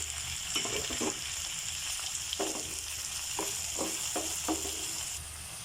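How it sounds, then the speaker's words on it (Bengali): Chopped tomatoes go into a pan of lightly fried onions, giving a quiet steady sizzle broken by several sharp scraping knocks of stirring. "আমার পেঁয়াজগুলো হালকা ভাজা হয়ে গিয়েছে এখন আমি এর মধ্যে কুচি করে রাখার টমেটোগুলো দিয়ে দিচ্ছি"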